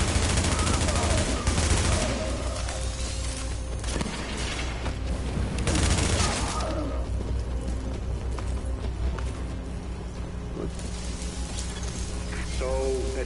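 Sustained gunfire from Tom Clancy's The Division, dense bursts of automatic fire and booms running loud and continuous throughout, with voices talking over parts of the fight.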